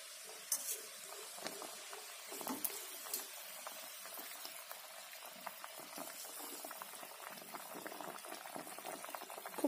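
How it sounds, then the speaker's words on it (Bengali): Hilsa fish curry in a mustard gravy bubbles and simmers in a pan, a steady close crackling boil with small pops and no voices. "একটু ফুটুক, দেখো কত সুন্দর ফুটছে"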